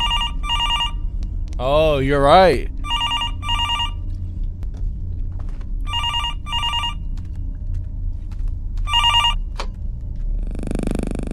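In a scary video game, an old-style telephone bell rings in repeated short bursts with gaps between them. A brief vocal exclamation and a low background drone sit under it, and a voice speaks briefly.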